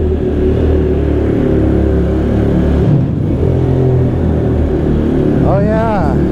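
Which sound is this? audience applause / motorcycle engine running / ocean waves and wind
motorcycle engine running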